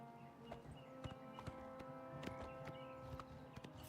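Horse hooves clip-clopping in Oblivion Remastered, a steady irregular patter of faint hoof strikes over a low ambient hum.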